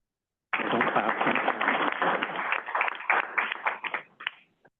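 A room of committee meeting attendees breaks into applause, a close, steady patter of many hands that lasts several seconds and then thins out to a few final claps.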